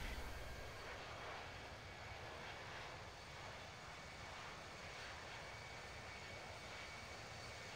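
Engines of a Qantas Link Boeing 717 in the Infinite Flight simulator, a steady, close jet roar and whine that drones evenly throughout with no speech.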